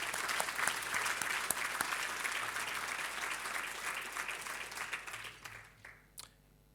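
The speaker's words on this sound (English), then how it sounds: "Let's give them a round of applause." A luncheon audience at the AmCham Hong Kong 2016 Chairman Inaugural Luncheon applauds departing board members: dense, steady clapping from a large room that thins and fades out over the last second or so.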